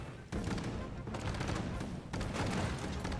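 Tank lob shots in the 51 Worldwide Games Team Tanks game, dense overlapping booming blasts coming in three loud, close waves with rumbling tails.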